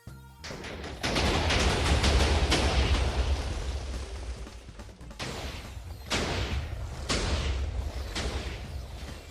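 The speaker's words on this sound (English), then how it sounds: "explosions!" Repeated loud explosions in a Minecraft game, several heavy booming blasts in quick succession with rumbling tails, no talking.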